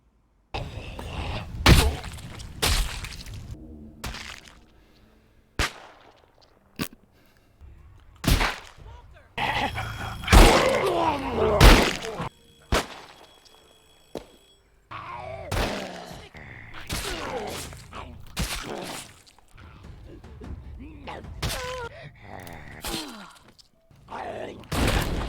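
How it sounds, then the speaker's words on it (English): Zombies are struck down with assorted weapons in The Walking Dead: Saints & Sinners, a loud run of sharp impacts, crunches, shattering hits and gunshots with groans between them, and voices over parts of it. "I've never had so much fun braining zombies in so many different ways and with so many different weapons"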